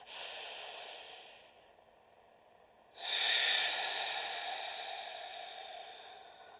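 A slow, steady exhale during a yoga breathing exercise: two long, airy breaths close to the mic, the second starting strong and tapering off gradually, with no talking.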